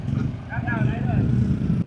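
Motorcycle running again after stalling in deep floodwater in Malolos: a low, pulsing engine putter close by, heard under a person talking.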